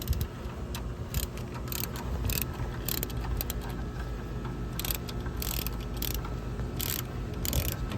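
Small screws being backed out with a Torx screwdriver, steady faint clicking and ratcheting metallic scrapes repeating close by with no talk.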